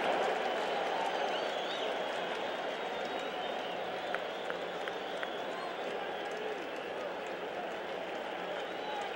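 A packed ballpark crowd at a night Mets–Cubs game in 1986 roars and applauds steadily as the home team nears clinching the division, a dense continuous wash of cheering with scattered whistles, loud and unbroken throughout.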